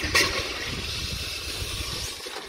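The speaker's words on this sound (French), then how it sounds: "Donc ça remplit un petit réservoir tampon ici avec un flotteur. Donc ça marche comme une chasse d'eau." Water rushing into the small float-valve buffer tank of a Kärcher pressure washer just after its seals were replaced, a steady hiss and gurgle filling much like a cistern, with a brief sharp splash at the start.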